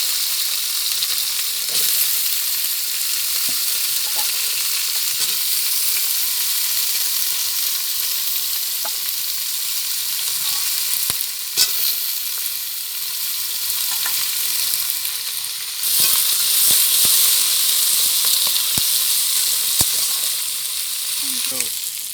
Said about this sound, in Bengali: এবার দেবো এই আলু, ওল আর ফুলকপির ডাঁটা ভেজে নেব।